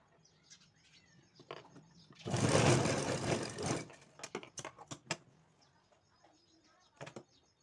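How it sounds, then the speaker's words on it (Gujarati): Sewing machine stitching a Janmashtami dress for a Laddu Gopal idol, a short burst of whirring stitches mid-clip amid scattered clicks and light handling noise, with a voice speaking around it. "તે આ બાજુ આપણે સિલાઈ મારી દેવાની છે"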